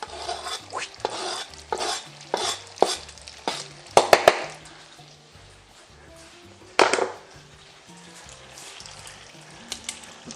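Spaghetti aglio e olio with parsley is stirred and tossed in a pan, giving a soft sizzle beneath a series of scraping strokes and clattering knocks, with a few louder clanks near the middle.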